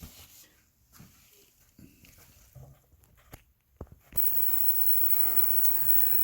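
After a few seconds of faint handling noises, an ultrasonic cleaner switches on with a loud, steady electrical hum that continues to the end.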